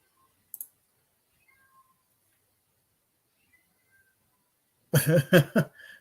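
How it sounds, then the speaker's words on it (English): A cat meows a few times in a quick, wavering cry near the end, after a quiet stretch with a brief click and faint chirps. "I hear a cat crying."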